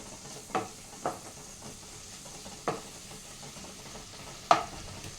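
Crushed ginger and garlic sauté in a hot pan, sizzling softly and steadily while a spoon stirs and scrapes the pan in a few distinct, sharp knocks, with no talking.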